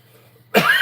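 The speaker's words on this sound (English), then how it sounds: "I still have a cough," A single sharp, close cough bursts out after a moment of near silence.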